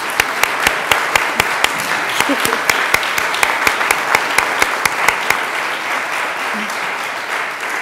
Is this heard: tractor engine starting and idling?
no